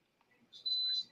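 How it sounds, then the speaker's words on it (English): A single sustained electronic beep, thin and high-pitched, sounds for about a third of a second during a live online hangout, fairly faint and heard alone with no talk over it. "Sorry for the beeping, guys."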